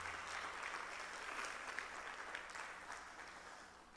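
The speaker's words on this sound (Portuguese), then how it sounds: "Você pode aplaudir o Senhor nessa noite" Church congregation clapping during an evening service, a steady wash of applause heard from some distance, fairly even throughout with no voices over it.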